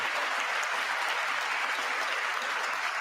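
Sustained applause fills a large chamber during a State of the Union address, a dense, even clapping from a big crowd that holds steady from start to finish.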